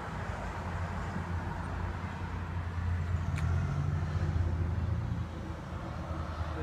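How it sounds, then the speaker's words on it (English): A 2003 Ford Mustang Mach 1 engine runs with a low, steady rumble heard from a moderate distance, swelling slightly in the middle before settling back. "So you can just hear the beastliness of this engine"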